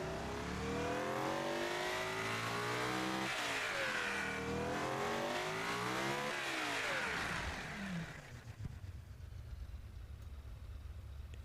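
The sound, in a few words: supercar engine revving in the video game Automation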